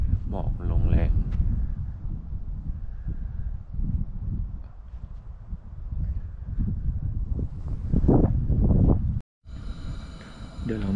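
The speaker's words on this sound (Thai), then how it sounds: "หมอกลมแรงมาก" Strong wind gusts in thick fog on a cold mountain in Huai Nam Dang National Park, buffeting the microphone as a low, uneven rumble, with a sharp clicking noise after a brief dropout near the end.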